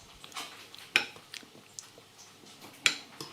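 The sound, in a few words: spooning baked beans onto a plate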